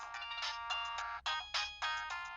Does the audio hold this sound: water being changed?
no